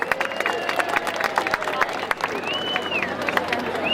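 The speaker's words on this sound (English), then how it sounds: "Great big round of applause for Red Baron Stearman Pizza and Mr. Jerry Van Kempen." Crowd at an air show in Gary, Indiana clapping and cheering in a continuous patter of applause, with a public-address voice and a whistling tone over the top.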